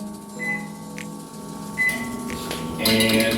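A microwave oven heating oatmeal hums steadily, with a couple of short keypad beeps and some kitchen clatter near the end.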